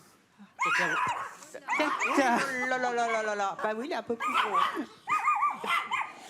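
A pet dog yips and barks in quick, loud bursts close by, with a long whining howl in the middle, while people talk and laugh over it.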